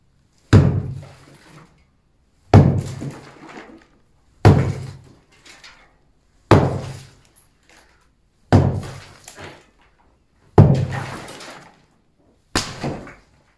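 A sledgehammer pounds the floor while breaking into a well hidden under a living room: seven heavy, close blows land at steady two-second intervals, each a sharp thud that dies away quickly, with no voices.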